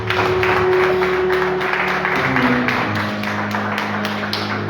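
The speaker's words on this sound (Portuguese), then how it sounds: "Aplaude ao Senhor Jesus" A church congregation applauds during a worship service, a steady wash of clapping from many hands running throughout with no voices over it.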